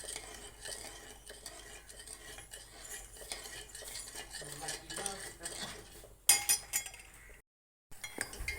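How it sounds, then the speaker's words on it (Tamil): A ladle stirring sugar syrup in a pot for gulab jamun, soft repeated scraping and light metallic clinks close by, with a louder clatter near the end and a brief silence. "சர்க்கரை அப்படியே கரையிறதுக்கு அப்படியே மெதுவாக கரண்டியில் கிண்டி விட்டுக்கிறோம்"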